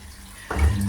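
LG top load washing machine with a drain problem, now draining: a low hum gives way midway to a louder, steady rush of water flowing out with a deep churning tone, heard alone.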